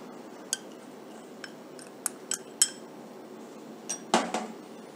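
Diced apples and chopped celery tossed in a bowl for a Waldorf salad, with sparse light clinks and taps of utensil on dish over a quiet kitchen background, ending in a louder clatter.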